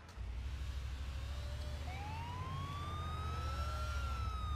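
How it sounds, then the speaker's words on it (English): An ambulance siren in the video game GTA IV rises and wails in a steady sweeping tone over a low engine rumble, heard alone and fairly close. "An ambulance."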